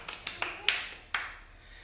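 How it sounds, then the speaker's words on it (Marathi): A few scattered hand claps from a small audience at a tongue-twister game, sharp and separate rather than a full burst of applause, with no talk over them. "जोरदार टाळ्या झाल्या पाहिजेत"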